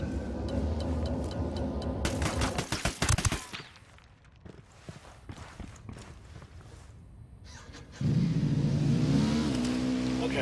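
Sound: vehicle engine in video game

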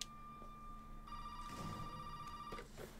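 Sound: telephone ringing in video game Resident Evil 7 Biohazard

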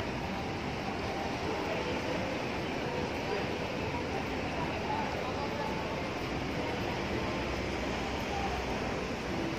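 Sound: train ride

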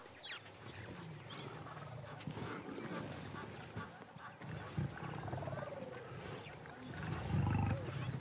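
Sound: lions roaring on the African savanna

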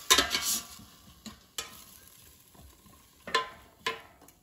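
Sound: mixing frozen artichoke hearts in an air fryer basket

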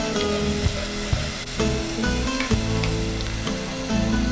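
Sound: garlic paste frying with onions in a pan

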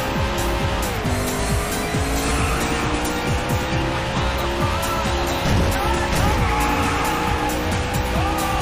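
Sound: race car engines and tire squeal in Daytona USA video game

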